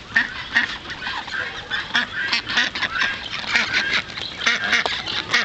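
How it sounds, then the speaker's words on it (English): Ducks on a farm quack and honk in a busy, overlapping flock, calls coming steadily and fairly close with no talk over them. "There's the ducks."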